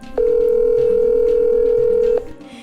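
A steady telephone dial tone sounds during a brief phone call. It is loud and continuous for about two seconds, then cuts off cleanly, with faint room noise before and after.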